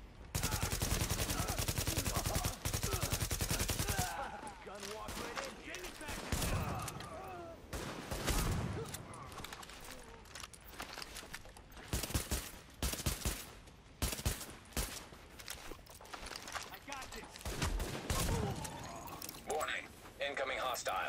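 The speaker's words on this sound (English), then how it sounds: "Warning, supplies taking fire." Gunfire in Tom Clancy's The Division: sustained automatic bursts and rapid shots, loud and dense, broken by short pauses as the fight continues. Speech is heard through the shooting.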